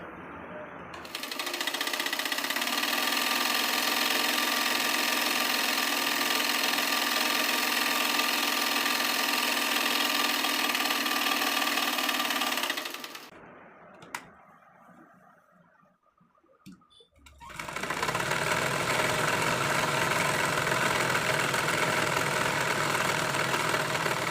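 A sewing machine stitches the slit of a cigarette pant with a loud, steady whir for about twelve seconds. It drops to quiet handling sounds, then starts again and runs steadily to the end.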